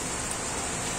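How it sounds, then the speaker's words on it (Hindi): Steady heavy rain pours down outdoors after a night of lighter drizzle, a dense, even hiss of drops drumming on surfaces with no pauses, filling the whole moment without any voices. "बारिश तो अभी तेज हुआ सुबह में, रात से तो हल्का ही हल्का बारिश हो रहा था।"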